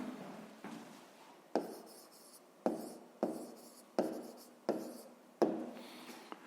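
Pen writing an answer on paper nearby, a series of about seven scratchy strokes, each starting with a tap and fading out, steady and moderately loud with no voices.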